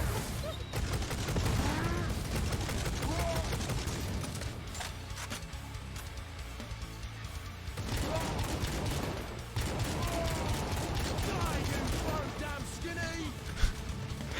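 Heavy bolter fire in the video game Necromunda: Hired Gun comes in dense, repeated bursts of shots under near-constant talk, with brief gaps between volleys.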